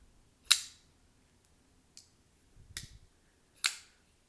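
A Kizer Roach flipper knife with a blasted titanium handle snaps open and shut, giving sharp, close metallic clicks: three loud ones and one faint one spread across a few seconds, with no voice.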